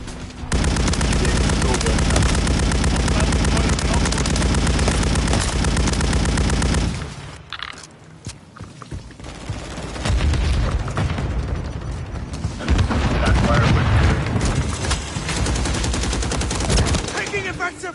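Heavy, sustained gunfire and explosions fill a zombie video game battle, loud and dense for several seconds, then a brief lull before more chaotic firing and clatter resumes, with a voice shouting over it.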